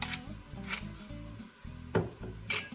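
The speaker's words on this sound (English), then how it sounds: "go ahead and give it a good stir" Meat sauce stirred in a pan, a spoon scraping and knocking against the cookware in short repeated strokes over a soft sizzle, close and fairly quiet.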